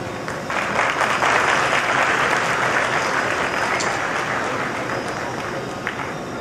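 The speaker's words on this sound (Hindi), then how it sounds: "आपको अच्छी भरपूर तालियां भी बजानी है" A large audience applauds loudly and steadily, many hands clapping together for several seconds before the clapping gradually thins.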